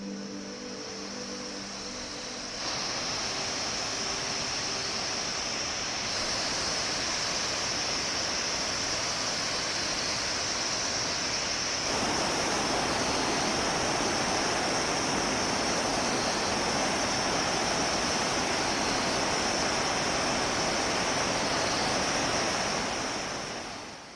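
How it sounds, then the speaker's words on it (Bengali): Pemling waterfall in a North Bengal hill forest roars as a broad, steady rush of falling water, loud and unbroken throughout, with no voices. "এত সুবিশাল আর সুউচ্চ ঝর্ণা বোধহয় এর আগে দেখিনি"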